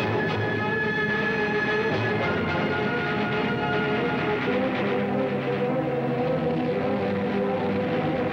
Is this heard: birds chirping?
no